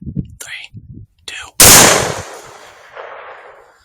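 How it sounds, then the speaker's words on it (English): A rifle shot cracks out loud and close during a night thermal coyote hunt, its sharp blast trailing into a long fading echo, preceded by brief hushed voices. "Did I shoot early?"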